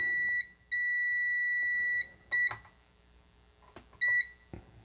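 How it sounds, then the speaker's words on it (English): Multimeter continuity-test beeps while checking an Amiga power supply in a quiet room: a short beep, a long two-second tone, then two brief beeps, with small clicks between them. "You hear a small beep because there is capacitance between the common and the 5 and 12 volt rails."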